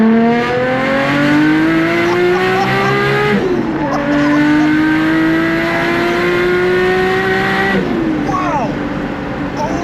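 A fully built Nissan Skyline R33 GTS with a custom exhaust revs hard, its engine note climbing steadily in two long pulls with a brief drop and shift between them, loud and close with a raspy edge.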